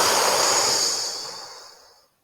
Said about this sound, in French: Et tu souffles fort.